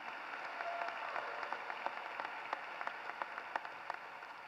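At a high school graduation, a large audience claps from a distance, forming a soft, steady patter with a few sharper nearby claps standing out at irregular intervals.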